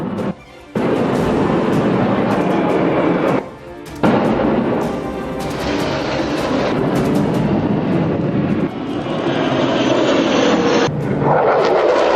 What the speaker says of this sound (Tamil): வாஷிங்டன் டிசியில் ராணுவ விமானங்களின் கண்கொள்ளா சாகச காட்சி.